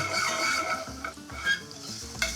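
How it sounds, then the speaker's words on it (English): Garlic sizzles fast in a hot pan with chilies while it is stirred. A steady frying hiss runs under repeated scraping strokes, close and moderately loud, with no voices. "now we're gonna throw in our garlic"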